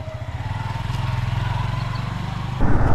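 A motorcycle engine idles and rolls at a steady low throb on a morning ride toward a petrol pump, loud and close, with a louder surge of engine and road noise near the end.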